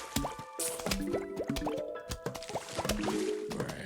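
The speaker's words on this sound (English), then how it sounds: "Heard somebody get in the water" Liquid drips and squishy plops from a zombie wading into the pool in Plants vs Zombies, a busy run of short watery blips over game music, moderately loud and close.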